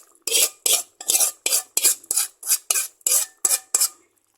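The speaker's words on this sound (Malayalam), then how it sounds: "ശേഷം നന്നായിട്ടൊന്ന് മിക്സ് ചെയ്യാം." A utensil stirs prawn and mango curry in a pan in about eleven quick, crisp scraping strokes at an even rhythm, close and clear, with no talk.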